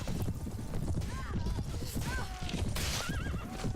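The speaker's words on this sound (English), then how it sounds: "You can hear the like horse sound if you take out their horse." Several shrill horse whinnies ring out over rapid hoofbeats and battle commotion in Mount and Blade: Warband, close and loud, repeating within a few seconds.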